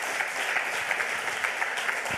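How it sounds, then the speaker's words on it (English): An audience applauds at a conference lightning talk, a dense, even wash of many hands clapping that holds steady for a couple of seconds without voices. "Give the Rocket Badge team a huge round of applause."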